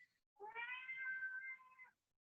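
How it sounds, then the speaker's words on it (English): A house cat gives a single drawn-out, whiny meow lasting about one and a half seconds, close and clear against a quiet background. "that's my cat."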